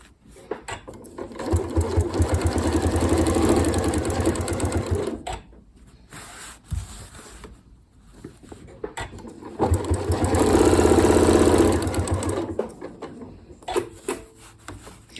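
A Janome Horizon Memory Craft 9480 QC Professional sewing machine doing ruler quilting runs in two sustained bursts of rapid, steady stitching. A pause separates the bursts, and the machine sounds close and loud.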